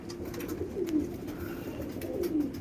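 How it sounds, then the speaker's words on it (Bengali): Home pigeons, freshly vaccinated and perched up in a double-deck cage, give low rolling coos, two clear swelling calls over a soft steady murmur, near and moderately loud. "সকাল সকাল ভ্যাকসিন করে দিয়েছি পায়রাগুলোকে,"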